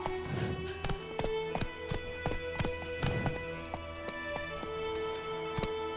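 A horse runs in the video game The Witcher 3, hooves striking in a steady clip-clop rhythm against a layer of game music and ambience, fairly close and moderately loud.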